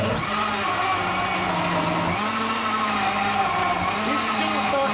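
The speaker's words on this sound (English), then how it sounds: "I'm about to blend my juice." A powerful kitchen blender whirs as it blends strawberries, apple and orange into juice, a loud, steady motor roar that runs without pause and shifts slightly in pitch as it spins.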